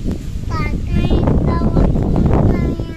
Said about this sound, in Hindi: ये हवा चल रही है, अच्छा लग रहा है।